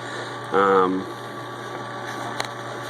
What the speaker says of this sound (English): This is my little pump I just had laying around.